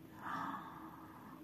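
A pet cat snoring nearby, one soft snorting, wheezy breath that swells and then trails off quietly.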